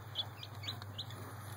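Six baby chickens chirp in quick, high-pitched peeps, several short repeated calls over a low steady hum, faint and close.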